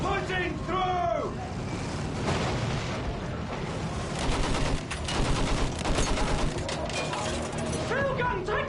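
Gunfire rattles through a Battlefield 1 video game battle, machine-gun bursts and heavier field-gun shots cracking among clanking mechanisms and shouted voices, dense and close, with rapid fire clustering toward the end.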